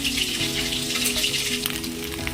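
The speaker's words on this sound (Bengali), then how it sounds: "এর মধ্যে ডিমগুলো ভেজে নেব।" Eggs fry in hot oil in a home kitchen pan for a Bengali egg curry, giving a steady, close crackling sizzle with scattered pops and no voices.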